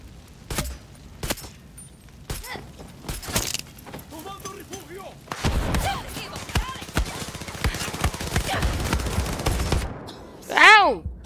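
Bursts of gunfire crackle in the video game Far Cry 6, with scattered shots and a rapid fusillade mixed with other game effects while players talk over it.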